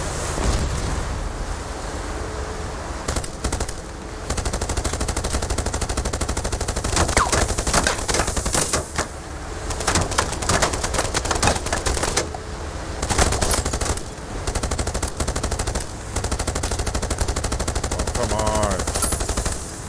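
Rapid bursts of automatic gunfire in the Age of Water video game as players shoot at hang gliders, dense rattling volleys with brief pauses between them, loud and close, with occasional voices underneath.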